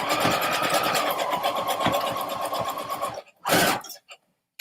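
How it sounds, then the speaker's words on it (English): Sewing machine running random stitches on an altered paperclip craft, a steady close mechanical whir with rapid rhythmic clatter for about three seconds, then stopping, with one brief burst after. "I think I can take it to the sewing machine and run some stitches."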